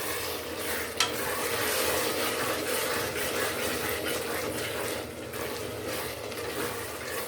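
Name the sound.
frying hyacinth beans, potato and tomato with butter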